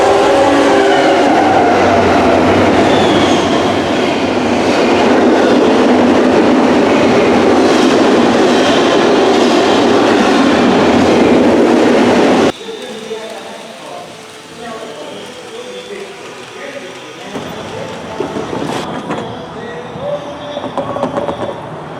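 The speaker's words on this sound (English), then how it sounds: "Train's coming through." A train rumbles past up close in East Texas, loud and sustained with wheel noise, then cuts abruptly to quieter trackside ambience as the cars clatter on fainter in the distance.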